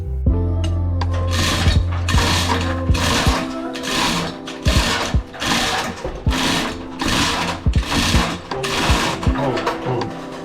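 An impact tool runs in rapid bursts on E12 bell housing bolts of a Jeep XJ during engine removal, loud and close, each rattling burst separated by brief pauses.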